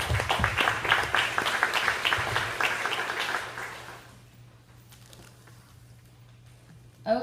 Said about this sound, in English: I want to give these people a round of applause